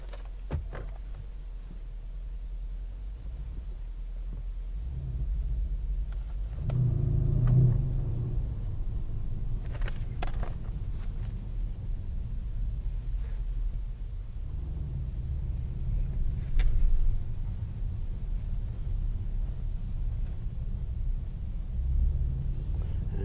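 A 2017 Mercedes-Benz AMG CLS63 engine rumbles steadily at low pitch while driving, with a few louder surges of revving, heard alone from inside the car.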